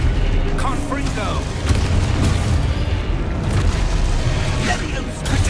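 Confringo fire spells burst with repeated booming blasts in Hogwarts Legacy during a troll fight in Hogsmeade, dense crackling impacts piling over one another while voices shout in the background.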